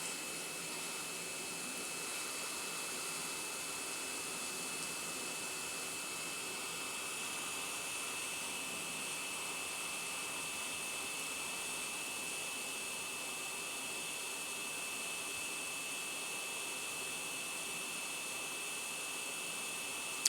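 Hot air blowing from a Bakon 881 solder and desolder station at a reduced flow rate, a steady unbroken hiss with a faint high whine, constant and close for the whole stretch.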